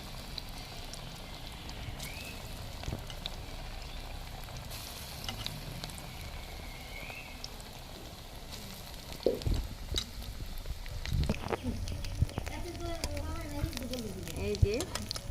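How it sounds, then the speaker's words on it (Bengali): Lentil flour tipped into hot oil in a wok gives a soft, steady sizzle that runs throughout, with scattered clinks and scraping from stirring and someone talking over it. "কড়াইতে তেল দিয়ে দিছি, তেল গরম হয়ে গেছে। এবার হচ্ছে গুঁড়াগুলো দিয়ে দেবো।"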